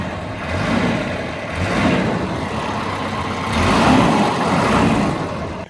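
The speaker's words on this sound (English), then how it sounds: "Let me give it some gas here." A Volvo 240 Turbo that needs restoration revs under throttle, its engine swelling and easing in a few loud, rough surges close by, with no talking.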